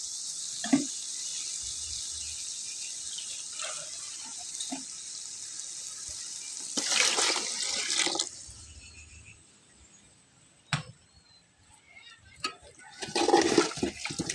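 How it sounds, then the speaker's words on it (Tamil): Water runs and splashes steadily as it is poured into a cooking pot of rasam, then a louder gush pours for a moment, followed by quieter drips, clinks and a few sharp knocks. "தேவையான தண்ணி ஊற்றிக்கிடுவோம்"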